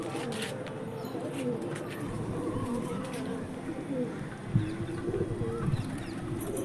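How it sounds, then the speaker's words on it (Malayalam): Native pigeons settle at a loft, their soft coos and clucking murmurs running continuously at moderate distance, with a person talking intermittently over them and a brief thump near the middle. "നമ്മളൊരു നാടൻ പ്രാവിനെ ഇട്ട് കൊടുത്തിട്ടുണ്ട് ഇറങ്ങാൻ."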